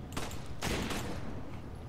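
Sniper rifle fire in Resident Evil 5 rings out as a couple of loud, sharp shots with noisy game sound around them.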